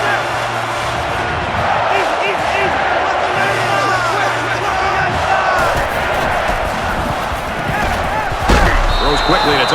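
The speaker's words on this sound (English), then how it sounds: "the crowd is always into it here." Stadium crowd roaring in the video game NCAA Football 2014 during a Washington State third-down play, a steady loud wash of cheering with a commentator's voice over it and a sharp thump near the end.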